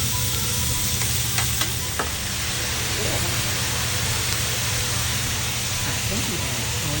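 Butter sizzles steadily on a hot hibachi griddle at a Japanese steakhouse, a continuous frying hiss with a low hum from the restaurant beneath, and faint scraping and stirring ticks over it.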